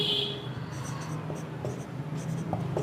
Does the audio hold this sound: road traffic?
no